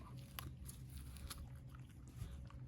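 A pet chews and crunches food close by, with faint, irregular bites and munching sounds over a quiet room.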